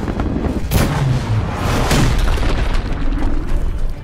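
A Titan breaking through the clouds and crashing down in the Titanfall beta shooter game, heard as loud, dense rumbling booms and artillery-like blasts with sharp impacts and a continuous heavy roar throughout.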